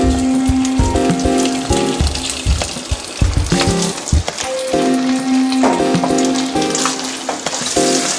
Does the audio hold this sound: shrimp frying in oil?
yes